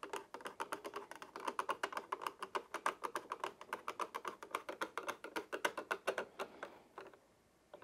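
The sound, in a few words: flathead screwdriver tightening the PS5 stand screw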